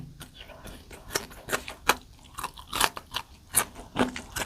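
Loud, crisp crunching bites while eating jackfruit stir-fry with fresh vegetables, heard close up as a steady run of sharp, irregular chews.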